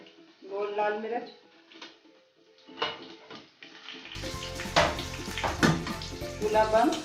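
Cumin seeds and whole round red chilies hit hot oil for a tempering, first under someone speaking, then bursting into a loud, crackling sizzle with spoon scrapes against the pan.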